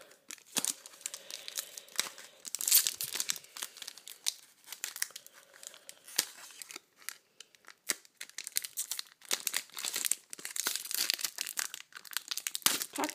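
Foil wrapper of a Battle for Zendikar Magic booster pack is crinkled and torn open, with steady close crackling and tearing bursts running throughout, no talking.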